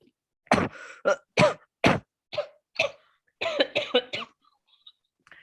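A string of about a dozen harsh, close coughs comes in uneven bursts, some in quick clusters, separated by short silences.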